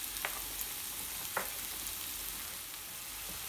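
Onions and garlic sweating gently in a pan with seasoning, a soft steady sizzle with a few faint stirring clicks, quiet and continuous with no talk.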